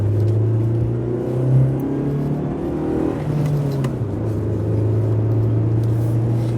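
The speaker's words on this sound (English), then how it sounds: "You can just hear proper K-series type sounds." A Royal Blue Turbo car with a K-series engine pulls hard up a hill, a loud, smooth engine drone from inside the car that rises and shifts pitch as it accelerates, with no whistle and no talk.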